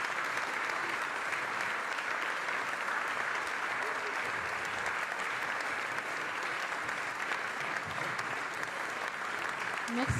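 Lecture audience applauding at the end of a talk on the state of the eurozone, a steady, even wash of many hands clapping in a large hall, continuous from start to finish.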